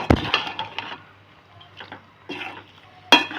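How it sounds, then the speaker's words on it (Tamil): Kothu parotta with egg being fried and stirred on high flame, with scraping spatula strikes against the pan in irregular bursts and a faint sizzle between them. "இப்போ வந்து புரோட்டாவை போட்டுக்குவோம் இப்போ வந்து ஹை ஃப்ளேமில் வச்சுட்டு"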